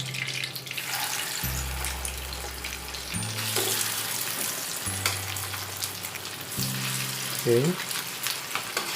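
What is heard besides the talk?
meat pan frying in a pan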